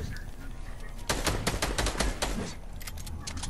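Rapid bursts of video game gunfire, a hectic rattle of close shots that starts suddenly and continues in dense volleys before thinning out.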